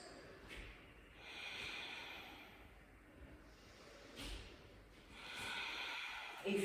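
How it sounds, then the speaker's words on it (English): Audible Ujjayi breaths during a yoga Superman pose, soft hissing inhales and exhales close to the ear, rising and falling in slow waves with a stronger snort-like breath near the end. "If your breathing becomes audible, don't worry. It can help you. It's called Ujjayi. Victorious breath."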